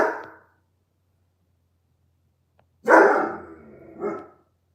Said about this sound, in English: Sorry about my dog. He likes to get loud and stuff sometimes.